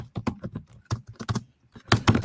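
Rapid clacking keystrokes in short bursts with brief pauses, close and fairly loud, typed on a keyboard in a sports talk setting.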